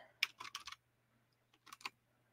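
Quiet keystrokes on a computer keyboard come in two short bursts of clicks separated by a pause, close and faint.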